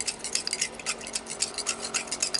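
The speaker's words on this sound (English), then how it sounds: "I just get it on my my palette knife here and go to town working it in." A palette knife works white oil paint and thinner together on a palette, giving a steady series of soft scraping, smearing strokes with faint metallic clicks, close and alone with no talk.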